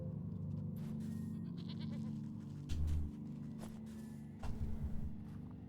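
Goats bleat in a fantasy crafting game, a few short cries rising over a low rumbling backdrop with scattered soft thuds and footsteps.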